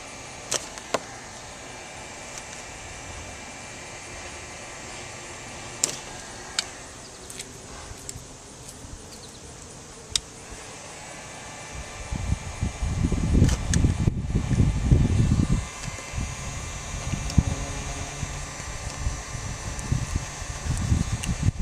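A heat gun blows a steady airy hiss while vinyl graphics are peeled off an RV, with sharp scraping snaps and, later, louder rustling crinkles of the decal material.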